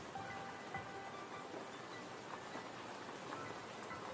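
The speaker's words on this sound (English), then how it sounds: "Did this add like a rain sound effect?" Steady rain sound effect from the Pokémon FireRed/LeafGreen video game, a constant soft hiss of falling rain with faint scattered droplet ticks, even and continuous throughout without talk.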